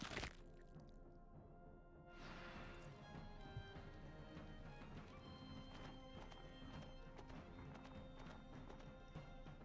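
Steady clip-clop of horse hooves with a brief whinny, set against continuous game music and effects in the video game Wartales.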